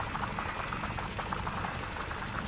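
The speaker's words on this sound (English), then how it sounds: "We can shoot up this asteroid here." Spaceship weapons in Elite Dangerous fire in a rapid, continuous stream at an ice asteroid, a steady mechanical rattle held at even loudness from start to finish.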